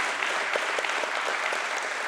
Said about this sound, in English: please give a huge round of applause to yourselves